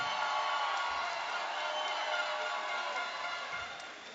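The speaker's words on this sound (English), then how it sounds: "A massive round of applause, please, for your new champion." Boxing arena crowd roaring for a new champion, a continuous broad wash of cheering and applause that holds steady and loud before tapering slightly at the end.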